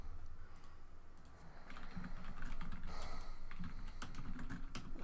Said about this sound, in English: Oh my gosh, my typing.